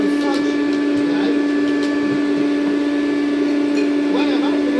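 Rainbow Mini Vac vacuum attachment running steadily with a constant motor whine and hum, loud and unbroken throughout, with faint talk in the background.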